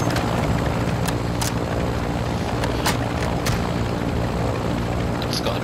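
A helicopter in Call of Duty: Modern Warfare II throbs loudly and continuously in the foreground, joined by a few sharp gunshot cracks, with no talking.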